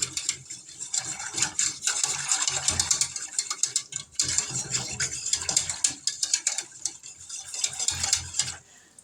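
A spoon scrapes and stirs through a sugar mixture in a pot as it comes to a boil, making close, uneven scraping strokes with short pauses between bursts.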